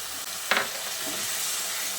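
Poppy seed paste thinned with water hits hot spices in a pan over a low gas flame, giving a sudden sharp sizzle burst that settles into a steady soft frying hiss.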